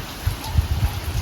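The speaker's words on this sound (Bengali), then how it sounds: "বৃষ্টি পড়ছে" Rain pours steadily during Cyclone Remal, a close, even hiss with a few low gusty thumps underneath, heard briefly with no talk.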